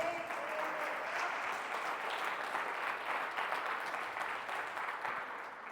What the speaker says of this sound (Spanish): ¿Cuántos damos una ofrenda de palmas?